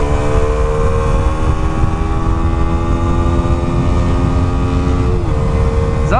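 A KTM RC 125 motorcycle engine holding a loud, steady high-revving drone while overtaking, with a strong constant hum and a shift in pitch near the end, recorded close up with no talk.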